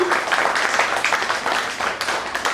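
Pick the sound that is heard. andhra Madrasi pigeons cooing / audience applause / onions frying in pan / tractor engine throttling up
audience applause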